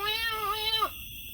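A cat gives one long, close meow that wavers and then dips sharply at the end, followed by near silence.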